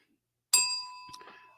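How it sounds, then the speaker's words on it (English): A single bright bell ding rings as a livestream super chat alert, struck sharply and left to fade, followed by a faint second clink near the end. "why did my bell sound so weird?"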